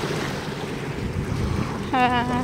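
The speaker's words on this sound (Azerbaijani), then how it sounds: "Dənizin səsi yaxşıdır" Sea waves washing along a shore on a sunny coastal walk near Baku, a steady broadband wash with wind noise on the microphone, then a short tonal whine near the end.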